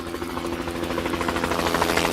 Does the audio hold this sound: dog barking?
no